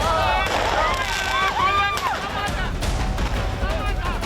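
Fireworks go off at a street protest against Israel in Athens, Greece: repeated sharp bangs and crackles with whistling streaks, mixed into loud outdoor crowd noise and shouting.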